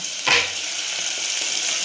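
Loud, steady sizzling of one large finely chopped onion frying in about one and a half spoons of hot oil in a pot, with a brief sharper burst near the start as it hits the pot.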